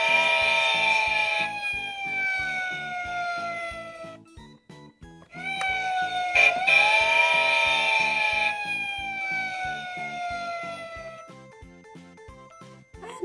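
A Mickey Mouse toy fire engine siren wails in repeated falling tones over a steady rhythmic mechanical beat, loud and close, with a short pause midway.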